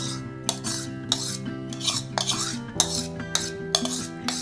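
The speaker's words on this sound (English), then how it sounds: "I'm going to give a nice stir so that the egg which we have beaten gets mixed with the batter" A spoon stirs beaten egg into thick cake batter in a bowl, producing rhythmic scraping strokes and clinks about twice a second, close, over a steady tonal background.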